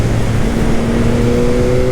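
A 2021 Yamaha MT-09 SP motorcycle engine pulls hard under acceleration, a loud, close, continuous drone with a rising tone and steady wind rush over two seconds.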